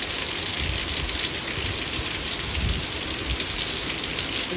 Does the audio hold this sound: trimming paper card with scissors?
no